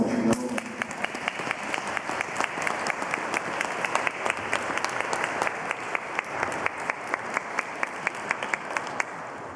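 Audience applause at a Slovenian pilgrimage gathering honoring Saint Paul, a steady wash of many hands clapping that runs unbroken throughout, with a few louder individual claps standing out near the listener.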